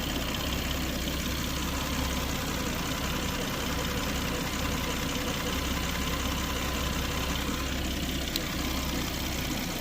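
A Volvo XC90 engine idles steadily after a jump start, its alternator not charging: an even, unbroken low rumble close by, with no talk.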